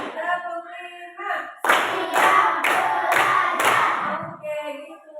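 A class of children claps in unison five times in a steady beat, loud and close, with children's voices chanting before and after the claps.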